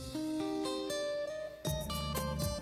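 Jazz over HD digital radio, full and bright with crisp cymbal hits over bass and horn lines, much wider and clearer than an AM broadcast.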